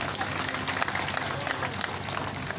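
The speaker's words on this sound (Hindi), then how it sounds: "जहां आप की तालियां रुक जाएंगे वहां मैं भी रुक जाऊंगा।" Dense, sustained applause from a large crowd at a public event in Bhoranj, steady and even throughout with no pauses.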